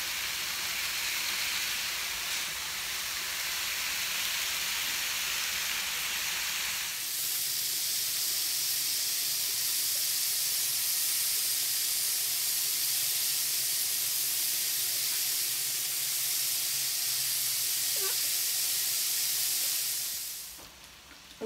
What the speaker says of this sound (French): les brochettes sont presque cuites là